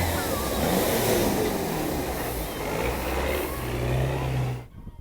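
A car drives through a deep water ford at Rufford, a steady loud rush of engine and churning water that holds for several seconds before cutting off abruptly.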